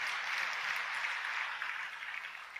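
Church congregation applauds in a soft, even patter of many hands, distant and faint, sustained for a few seconds before tapering slightly.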